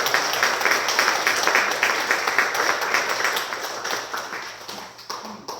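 A church audience applauds elderly parents with a sustained, even wash of many clapping hands, fairly loud and continuous, slowly tapering off over several seconds.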